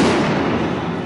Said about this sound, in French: Avec des pétards.